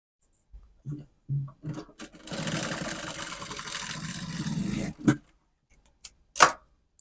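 A sewing machine stitches a dart in dress lining, one continuous whirring run of a few seconds, framed by short bursts of fabric handling and clicks before and after, close and clear.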